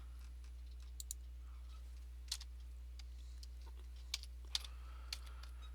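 Computer mouse clicks during a session of the Corsair Leader Guadalcanal 1942 game: about half a dozen sharp, close ticks at irregular intervals over a steady low electrical hum, with no one talking.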